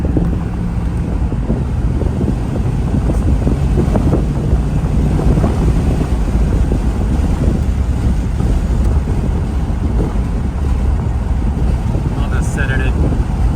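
A 1986 Corvette cruising on the highway around 65 mph, a steady, loud roar of road and wind noise filling the cabin with no pauses, with someone talking over it.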